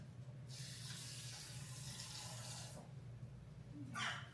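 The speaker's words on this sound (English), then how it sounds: "I'm going to add some water." Water pours steadily into a container of oats and chia seeds for about two seconds, a soft continuous splash, followed by a brief second trickle near the end.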